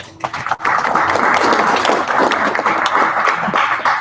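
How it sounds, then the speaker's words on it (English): An audience at a Python programming meetup gives a round of applause: dense, steady clapping from a room of people that starts abruptly and holds loud and even for about four seconds. "round of applause for that"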